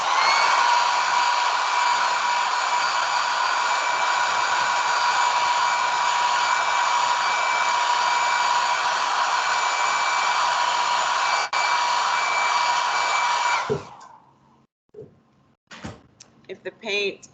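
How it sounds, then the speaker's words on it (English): A cheap hair dryer blows a steady, loud, even whir close by while drying acrylic paint, running for about fourteen seconds before switching off, followed by a few soft handling sounds. "I like my cheap hair dryer to help expedite the drying process."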